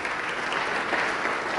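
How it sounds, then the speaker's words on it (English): Audience round of applause at a nonprofit stewardship event, dense steady clapping from a full room, sustained and even for the whole stretch. "Let's give Peter a round of applause"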